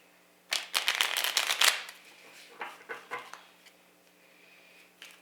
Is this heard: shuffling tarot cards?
yes